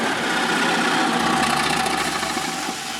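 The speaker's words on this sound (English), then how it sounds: "For safety reasons, they had to cut out the engine of the car before we could actually wreck it." A car engine runs on a set before a staged crash, holding a steady, close, continuous idling hum with a faint mechanical rattle and no talking.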